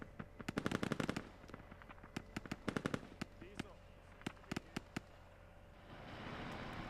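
Gunfire in a competitive multiplayer video game: rapid automatic bursts and single sharp shots in uneven clusters, fairly close, with voices talking underneath and a rising hiss of noise at the end.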